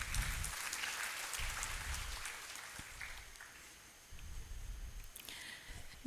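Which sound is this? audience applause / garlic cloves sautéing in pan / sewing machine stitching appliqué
audience applause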